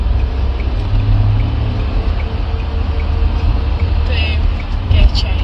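A car accelerates along a dual carriageway, its engine and road rumble holding steady and close from inside the cabin, with a brief clicking sound near the end.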